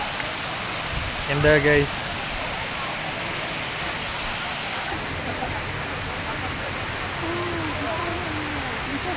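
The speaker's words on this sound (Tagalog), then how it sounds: "So yun yung Shifen Waterfall." Shifen Waterfall in Taiwan gives a constant, even roar of falling water throughout. Someone speaks briefly over it and other voices are faint in the background.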